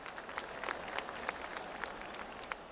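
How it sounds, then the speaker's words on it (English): A golf crowd in PGA Tour 2K25 claps at a distance, a soft, continuous patter of many hands with a few sharper claps standing out, no voices on top. "Who's clapping?"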